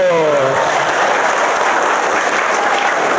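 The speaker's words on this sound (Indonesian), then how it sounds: "Tepuk tangan dulu." Church congregation applauds together in a loud, sustained burst of clapping that fills the room evenly from start to finish.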